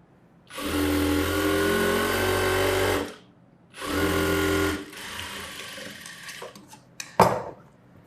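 A sewing machine stitches a gathering pant in a tailoring lesson. It runs in two loud, steady bursts, a long one and then a shorter one, followed by light clinks and clatter as the fabric is handled.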